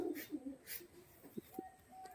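A Dhari pigeon coos briefly and faintly in a few short throaty notes, close but quiet against light background noise.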